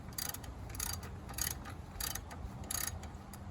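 A 3/8-inch ratchet loosening bolts on a Jeep axle during drum brake work, giving about half a dozen quick, close clicking bursts at a steady rhythm over faint background.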